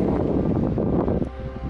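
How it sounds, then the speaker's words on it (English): Wind gusting across a lakeside highway spot among mountains, a steady broadband rush buffeting the microphone without letup for under two seconds. "It's a little bit windy,"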